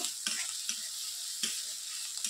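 Ginger and spices, with chilli powder and turmeric, fry in a pan with a steady hiss of sizzling oil, broken by a few sharp scrapes as a utensil stirs them, close and continuous.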